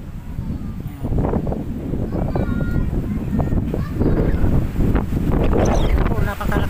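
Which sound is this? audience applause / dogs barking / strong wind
strong wind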